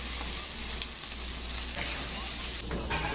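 Chicken hearts frying in a pan with garlic and green chili, a steady close sizzle with soft crackles and occasional stirring scrapes throughout.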